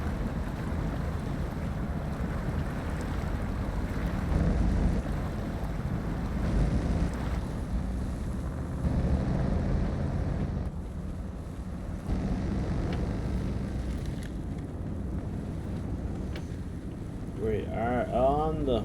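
A modded Hummer H2 truck in SnowRunner churns through water and mud, its engine giving a steady low rumble with sloshing and splashing, under continuous talk.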